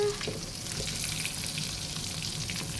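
An omelette with mushrooms and crispy holy basil frying in oil over high heat, a dense continuous close sizzle with fine crackling, steady and moderately quiet throughout.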